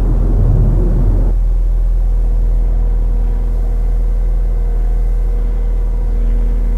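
A Bobcat skid steer driving off a lowboy trailer, a loud, steady low engine rumble with a constant idle-like drone that holds throughout after a brief louder burst at the start.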